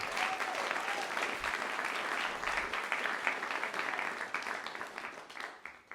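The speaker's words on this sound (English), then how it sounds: "Can we get a round of applause for our musicians?" A crowd applauds musicians steadily at a young composers' concert, dense clapping holding for several seconds before thinning and fading out at the end.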